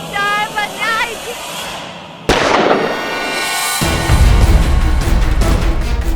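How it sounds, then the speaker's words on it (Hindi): A sudden loud blast cuts in after a quieter stretch, followed by sustained roaring, crackling noise that stays loud to the end. "तुमने गोली चलने की आवाज सुनी?"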